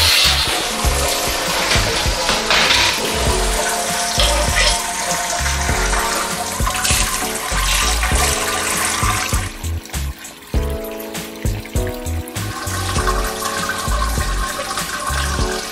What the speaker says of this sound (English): we've finished, or in the process of sparging now